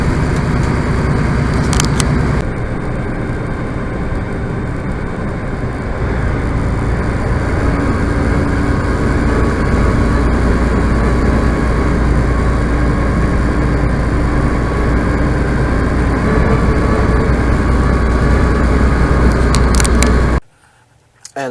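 A pickup truck engine idles in extreme cold around minus 30 Celsius at a Flying J truck stop in Alberta, making a loud, steady low rumble that runs unbroken before cutting out abruptly near the end.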